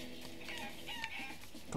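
A chicken in the Guacamelee video game clucks in quick, faint bursts over a busy game soundtrack, with no talk.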